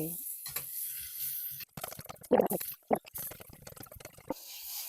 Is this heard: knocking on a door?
no